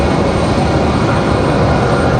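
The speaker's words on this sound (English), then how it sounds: "we're just gonna relax, enjoy the sounds of the planes" An airplane roars steadily and loudly at Raleigh-Durham International Airport, a dense continuous engine noise filling the short stretch with no voices.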